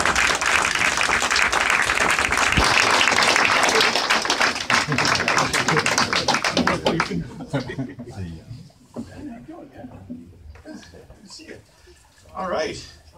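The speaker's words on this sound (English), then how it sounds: "Let's do another round of applause." Enthusiastic applause from a crowd at a political campaign event in Jaffrey, New Hampshire, dense clapping for several seconds that tapers into scattered claps while people begin talking nearby.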